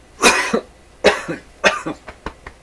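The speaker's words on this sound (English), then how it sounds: "Cough break here." Several harsh coughs, close by: three strong bursts spaced about half a second apart, then a couple of shorter, lighter coughs.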